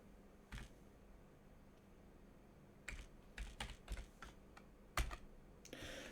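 Someone types on a QWERTY computer keyboard while setting up a mini PC: close, irregular key clicks that start sparse and build into a louder, busier burst of keystrokes.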